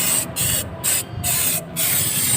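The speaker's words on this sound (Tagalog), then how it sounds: "kapag ini-spray mo nalalaglag na yung dumi" Bursts of Koby CVT cleaner sprayed onto the CVT of a Yamaha NMAX V2 scooter, four close hissing blasts with short gaps between them, loud and with no talking.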